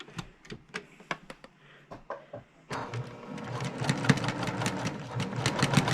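Sewing machine stitching quilt scraps of thin white material: a few short, separate stitch bursts, then a steady, continuous run of rapid needle clatter that grows slightly louder.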